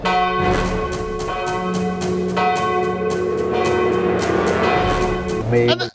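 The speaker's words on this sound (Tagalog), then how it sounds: "ang ating bell walang nagpapatunog pero tumutunog ng kusa" The bell of Santo Niño Cathedral rings loud and near in a run of repeated strikes, its tones overlapping and sustaining, with a muffled clank as it ends.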